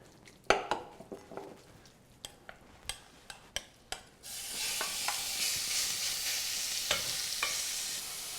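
Pork pieces frying in a pan for a risotto, starting with several sharp clinks of a utensil against the pan, then a loud, steady sizzle that persists with occasional stirring taps.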